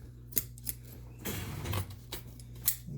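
Scissors snipping through upholstery fabric on a dining chair seat, a few crisp clicks followed by a longer rasping cut through the cloth, close and quiet with no voices.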